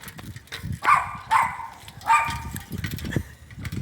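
A dog barks in three sharp, loud bursts, evenly spaced, followed by softer low snuffling and movement noises close to the microphone.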